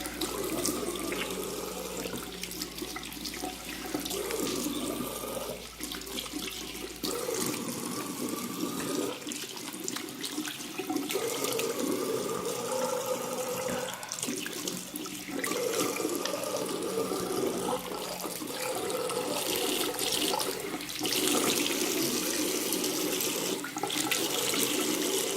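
Lukewarm water runs steadily from a tap into a sink while a face scrub is rinsed off, a continuous close splashing flow that shifts slightly as hands move through the stream.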